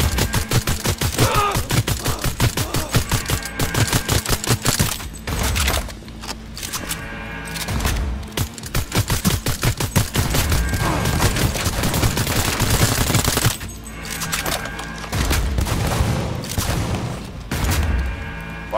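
Heavy gunfire crackles through a Cyberpunk 2077 heist firefight, with dense rapid bursts and booming blasts repeating over long stretches and brief lulls between volleys, loud and close amid game music.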